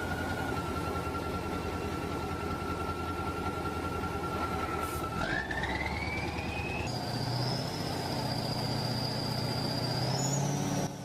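A heavy Kras truck works its winch against a large tractor at a towing competition, a steady engine drone with a rising mechanical whine that climbs in pitch midway and holds.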